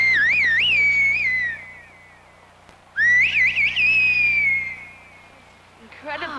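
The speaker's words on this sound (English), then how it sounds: "Est-ce que vous pourriez nous refaire le sifflement que vous nous avez fait?" A man whistles a sentence in a whistled language, two loud, piercing, warbling phrases with rising and falling pitch glides separated by a short pause, near and clear over a faint low background.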